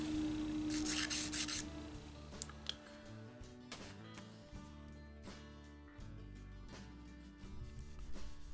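Wet sanding with 600 grit sandpaper and mineral spirits levels drop-filled shellac over a crack in a guitar finish: a faint, steady rubbing rasp in short repeated strokes, close and quiet with no talk.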